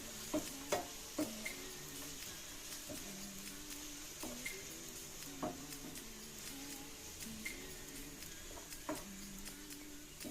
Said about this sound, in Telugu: టమాటా ప్యూరీ వేసాం కదండి ఇలా తిప్పుతూ ఉండాలి